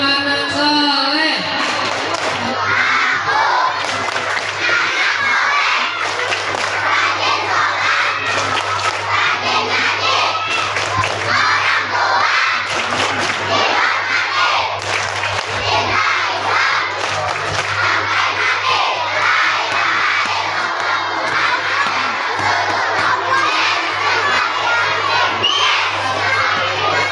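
A crowd of schoolchildren at a Maulid gathering at SDN Beji 3 loudly chant 'tepuk anak soleh' in unison, a dense, continuous wall of shouted voices with bursts of cheering throughout.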